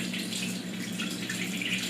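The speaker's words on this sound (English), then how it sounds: "Wash the tomatoes." Tap water runs steadily into a sink while tomatoes are washed, a constant close splashing flow with no talk.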